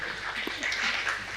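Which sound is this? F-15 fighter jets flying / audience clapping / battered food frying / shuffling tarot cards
audience clapping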